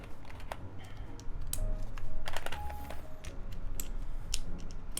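Keys clack on a Cyberboard R2 mechanical keyboard with PBT keycaps, a brisk irregular run of crisp nearby taps and thocks, some sharper clicks standing out.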